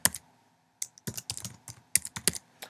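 A new password typed on a computer keyboard, quick close clicky keystrokes in short irregular bursts after a brief pause, with no voices.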